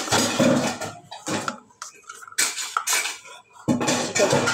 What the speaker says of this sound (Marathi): चमच्याच्या साह्यानं व्यवस्थित मिक्स करून घेते